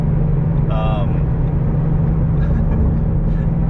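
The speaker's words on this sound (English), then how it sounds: "the sound of this engine" A Ford Mustang Mach 1 engine gives a steady, close, low rumble that fills the whole stretch, with a brief voice-like sound riding on top early on.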